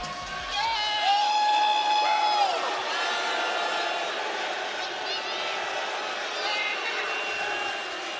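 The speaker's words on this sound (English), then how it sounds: "Some people cheering and some people booing." Wrestling arena crowd reacting to MJF's title celebration at an AEW event, a mix of cheers and boos rolling as a broad, sustained roar from a large audience, with music-like tones briefly cut early on.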